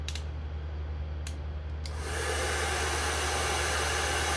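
A heat gun set to low heat switches on and runs with a steady, close airy hiss and a low hum, used for painting work.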